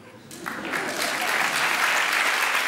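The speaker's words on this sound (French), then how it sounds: "Et lorsque c'est un bon public à ce moment précis, il applaudit." Stand-up comedy audience breaks into applause that builds quickly and holds steady, a dense clapping wash filling the room.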